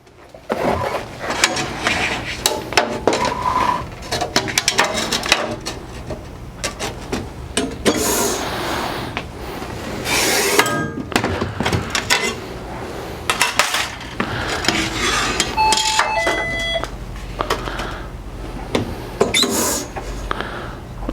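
Picture frame moulding is cut to size in a framing shop, with a busy run of clacks, clunks and sharp cutting snaps of the machine, repeated and close, over a low shop hum.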